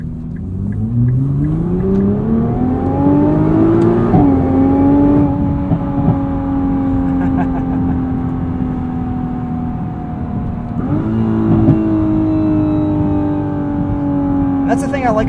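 A 2021 Nissan GT-R Premium with a DCT transmission accelerates hard, its engine climbing through rising revs with audible gear changes around four and eleven seconds, loud and close inside the cabin, with a voice talking over it.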